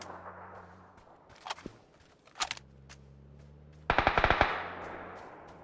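Gunfire in PUBG: a couple of distant isolated shots, then a quick burst of several sharp cracks, set against a low humming background in the game.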